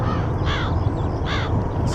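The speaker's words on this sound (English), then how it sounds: "Lots of birds around." Crows caw in a Train Simulator Classic scene, two loud harsh calls spaced about a second apart over a steady low rumble of background noise.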